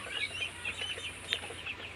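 Broiler chickens raised at home in a small netted enclosure make soft, high clucking and peeping calls in scattered short notes, fairly quiet and at a moderate distance.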